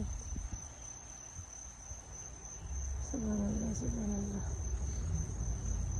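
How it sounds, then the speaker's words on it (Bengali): Crickets chirp in a garden in the morning, a steady high-pitched trill running throughout, faint and distant under quiet outdoor ambience, with a brief bird-like call in the middle. "ঝিঝি পোখার সাউন্ডটা"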